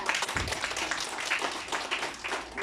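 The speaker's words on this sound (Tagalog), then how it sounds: "Isang malakas ng palakpak na papuri na po." Applause at a prayer meeting, a broad steady wash of clapping that fills the whole stretch at moderate loudness, with no distinct voices standing out.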